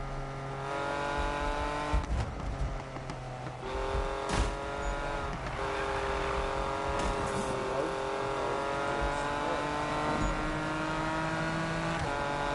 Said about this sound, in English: this performance exhaust does not sound too far off the way that it sounds stock